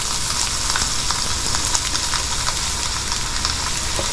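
Lengthwise-chopped onions sautéing in a pan for Kerala egg puff stuffing: a steady, loud hiss and crackle of frying, close up and continuous, with occasional faint stirring taps and no talking.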